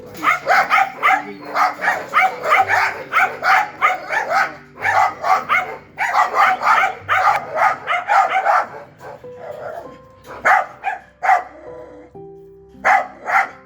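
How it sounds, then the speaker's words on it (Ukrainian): A German shepherd barks loudly and repeatedly in quick bursts, with short pauses between volleys, close by and with no talk over it. "У нас є собака Мухтар, овчарка"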